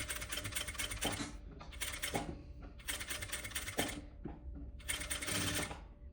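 Sewing machine stitching a boy's stand-collar vest with interlining, running in four steady bursts of rapid mechanical chatter separated by short pauses, close and fairly loud with no talk.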